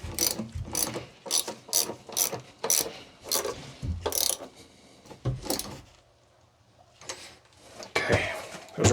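A ratchet tightens battery terminal connections, giving crisp, close clicking bursts in repeated quick strokes with brief pauses between them.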